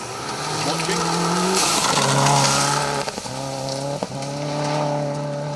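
A Subaru Impreza rally car, car 417, tears along a dirt stage, its engine revving hard through gear changes with brief dips between shifts, loud and close, with a voice talking over it.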